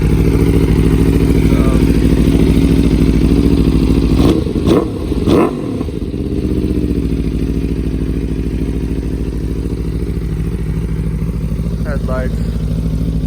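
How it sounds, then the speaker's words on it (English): Aprilia RSV4 1100 Factory motorcycle fitted with a full-titanium SC Project aftermarket exhaust, a deep, throaty engine note holding steady and close, broken around the middle by a few quick revving blips before settling back to a rumbling idle. "Very deep, very throaty. It's an SC project, aftermarket exhaust, full titanium."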